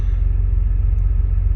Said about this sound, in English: me driving the truck